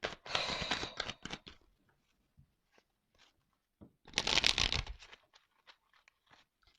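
Tarot cards drawn from a deck: two dense bursts of close, crisp card shuffling and riffling, each lasting about a second, separated by scattered faint ticks and taps in quiet.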